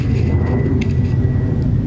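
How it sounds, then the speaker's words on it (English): An airplane passes overhead at night with a steady, loud low rumble that fills the whole stretch, with no talking heard. "You can hear a plane passing by."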